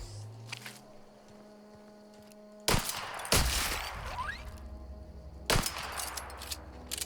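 Gunfire in the game The Outer Worlds: a few sharp, separated shots or short bursts crack out over a quiet background, with no talking.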